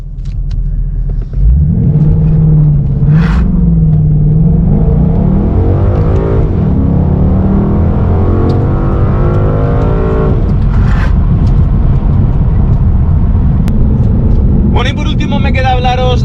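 Ford Mustang GT with a 5.0 V8 accelerating hard, a deep rumbling engine rising in pitch through the revs, loud and close, with someone talking over it.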